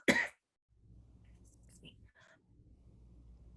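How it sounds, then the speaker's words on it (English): A single sharp cough right at the start, followed by a quiet, low background murmur. "She's coughing"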